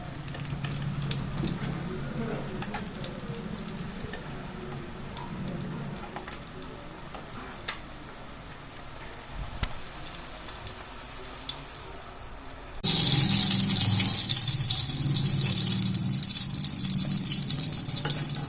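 Malai boti parcels sizzle steadily in hot oil, a dense crackling hiss that jumps suddenly louder and brighter near the end, heard close with no talk.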